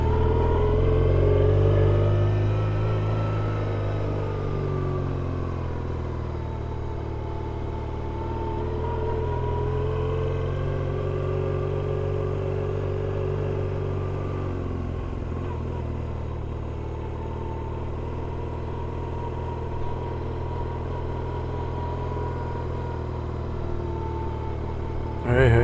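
A road vehicle's engine drones with a steady low rumble, its pitch slowly rising and falling as the clutch and gas are worked on a drive in Galicia, Spain.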